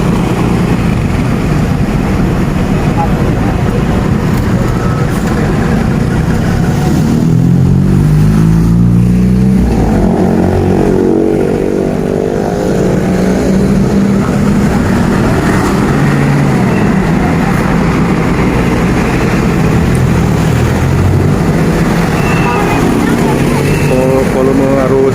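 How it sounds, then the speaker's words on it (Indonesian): Busy road traffic during the holiday return trip, mostly motorcycles and cars, rushing past as a steady loud roar with engines swelling and fading as vehicles pass close by. "Volume arus kendaraan di arus balik ini cukup lumayan ramai pemirsa, yang didominasi oleh kendaraan roda 2 dan roda 4"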